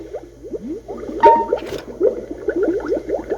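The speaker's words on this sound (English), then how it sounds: "There in the ladle was Joe Magarac, hot steel bubbling up around him." Thick bubbling and squelching of molten steel churning in a ladle at a steel mill, a steady run of soft gloppy pops with a brief sharper burst midway, no voices.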